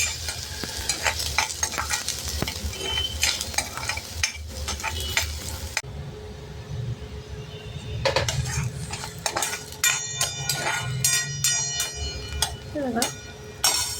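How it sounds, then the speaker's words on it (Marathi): Finely chopped onion and other ingredients stirred and sautéed in a hot pan for restaurant-style dal tadka, with a steady sizzle and repeated scraping and clinking of a utensil against the pan; a voice speaks over parts of it. "परतून घ्यायचं आहे आपल्याला ह्या सगळ्या वस्तू"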